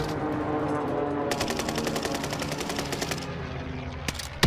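Automatic weapon fire in the Warzone video game, a sustained rapid burst of shots lasting about two seconds with a short separate burst near the end, heard over continuous game ambience.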